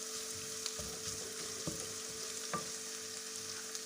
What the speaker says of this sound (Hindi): और अब मैं इसको हल्का हल्का सौते करूँगी